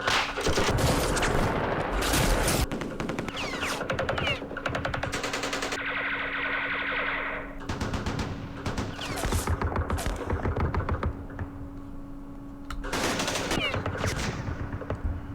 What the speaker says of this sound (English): Let's do some firing here.